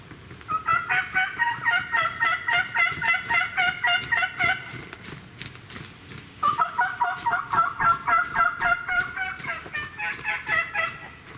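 A wild turkey gobbles in the Indiana spring woods. Loud, close calls come in two long, rapid runs of rattling gobbles with a short pause between them.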